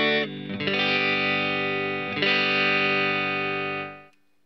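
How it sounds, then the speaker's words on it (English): A Stratocaster electric guitar plays through a Cab Driver overdrive pedal into a Fender Twin amp. Two strummed chords ring out full and sustained, one after another, then are abruptly muted near the end, with no speech. "Now with the cab driver on."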